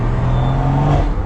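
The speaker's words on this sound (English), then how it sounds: "Bro, the turbo noises." A 600-horsepower Stage 2 2020 BMW M340i engine hums and whirs loudly up close, with a rising turbo whine over the steady low rumble.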